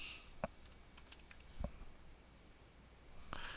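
A few sparse keystrokes on a computer keyboard, including one firmer key press like the return key, are heard close up against a quiet room background with no talking.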